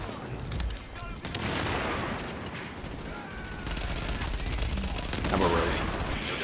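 Gunfire in the video game Tom Clancy's The Division, dense overlapping bursts of automatic shots and heavier booms rolling on continuously at a loud level, with a voice talking partly over it.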